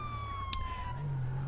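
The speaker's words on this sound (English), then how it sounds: "you will not see them without their sirens on for more than a few seconds" A police car siren in Grand Theft Auto V wails steadily through a chase, one long sweeping tone that drifts slowly over its full length.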